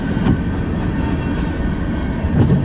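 A freight train rolls past at close range, a loud, steady rumble and roar of rail cars with faint rhythmic wheel clatter, continuous throughout with no voices.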